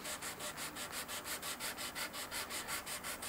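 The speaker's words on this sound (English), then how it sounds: "we're just gonna start sanding this thing" Rhythmic sanding of a guitar body with sandpaper on a hard block, steady back-and-forth strokes about six per second, close and even.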